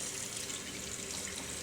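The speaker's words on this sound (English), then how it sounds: "now I'm going to splash cold water on them and see what happens" Cold water runs and splashes steadily from a tap into a sink, a continuous close hiss of flowing water with no voices.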